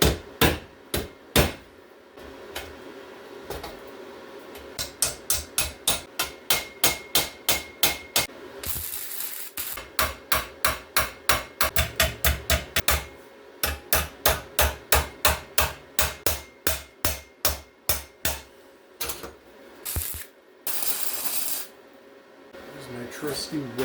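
A ball peen hammer strikes an exhaust pipe in long runs of rapid, loud, evenly spaced metallic blows, broken by short pauses and a stretch of hiss.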